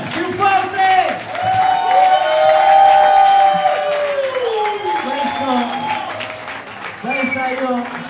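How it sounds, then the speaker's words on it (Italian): Loud cheering and applause from a crowd for a live band in an Irish pub in Matera, with shouting voices rising and falling over the clapping throughout. "vorrei che tutti quanti facesse un applauso"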